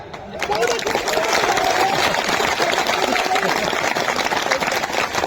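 An audience at Latiya Mahotsav, a festival, breaks into sustained applause, a dense, steady wash of clapping from a large crowd heard at a moderate distance, with a speaker's voice over it.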